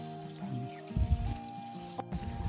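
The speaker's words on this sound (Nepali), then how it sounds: "पानी थाप्दै हो त मूलबाट" Water trickles steadily from a hillside spring into a container on the Khumai Dada trek, a soft continuous flow with a low hum beneath and a brief knock near the end.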